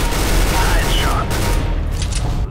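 Rapid gunfire bursts from Counter-Strike: Global Offensive on the fy_iceworld_classic deathmatch map, dense and loud, overlapping with constant game noise and continuous talk.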